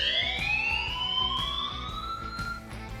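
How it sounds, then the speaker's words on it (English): A phone rings with a siren-style ringtone, a loud, close rising wail that sweeps upward in long glides over a steady pulsing beat, with no one speaking. "My phone rang with the siren tone I reserved especially for my mother."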